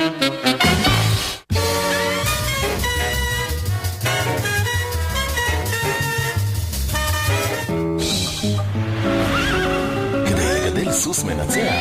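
Horse neighing in a kids' TV channel promo, loud whinnies over busy music and voices talking throughout.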